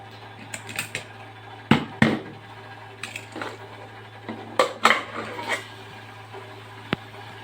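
A pressure cooker lid is opened after the chicken has cooked and the steam has gone, heard as a series of close metallic clicks and clacks against a low steady hum.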